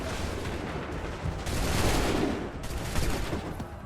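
A musket volley fired by massed soldiers in the Assassin's Creed 3 video game: a dense, rolling crackle of many overlapping shots that swells in the middle and carries on to the end.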